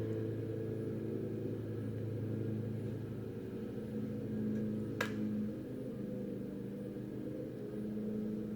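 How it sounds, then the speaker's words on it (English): Lawnmower running in the background outside a home, a faint continuous low engine drone that shifts slightly in pitch midway, with a brief sharp click partway through and no talking. "So in the background, you're probably going to hear the lawnmower going."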